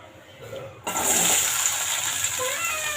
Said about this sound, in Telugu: ఇప్పుడు మనం బంగాళదుంప ముక్కలు వేపుకుందాం